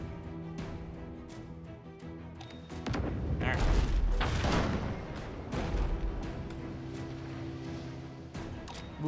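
Swivel guns fire in the naval video game Abandon Ship: a run of sharp cannon cracks over a steady low hum, swelling into a dense, loud volley of booms midway before easing back to scattered shots.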